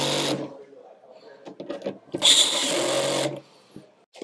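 Two short, close whirring bursts from a powered driver as screws go into brass threaded inserts while fitting a raised air intake to a Land Rover Discovery 3 or 4, with someone talking between them.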